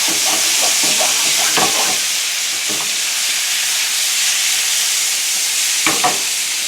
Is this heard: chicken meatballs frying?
yes